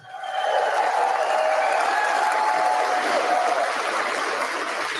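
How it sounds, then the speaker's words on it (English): Rally crowd in Sault Ste. Marie claps for hardworking people and a veteran, a loud, sustained wash of applause and cheering that swells in quickly and holds without a break. "Give them a big round of applause."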